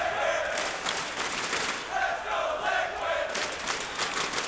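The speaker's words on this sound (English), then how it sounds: "The crowd are loving it" Crowd at the BLAST Pro Series Miami 2019 esports match between Team Liquid and Astralis, cheering and roaring in steady loud waves with voices and whistles rising above the din.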